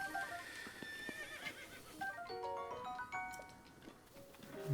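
A horse whinnies in Zelda Breath of the Wild, a moderately loud neigh rising over the game's light ambient music, with a few soft hoof clops around it.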